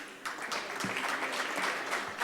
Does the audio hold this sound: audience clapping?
yes